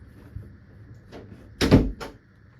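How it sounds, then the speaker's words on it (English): A house door pushed shut nearby, a soft swing followed by a solid thud of the latch and a second lighter knock, alone in a quiet room. "Close that door."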